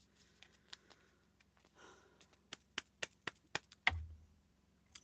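A large deck of playing cards being shuffled nearby, heard as a run of sharp, quick snapping riffles and taps in uneven bursts, with one louder thump near the end against a quiet room.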